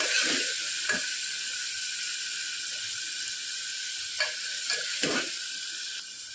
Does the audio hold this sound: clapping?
no